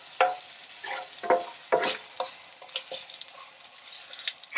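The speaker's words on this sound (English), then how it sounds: "Then I'm going to throw in the slices of ginger." Slices of ginger hit hot grapeseed oil in a pan and sizzle, with several sharp crackling bursts close by as pieces drop in, settling into a lighter spattering fry.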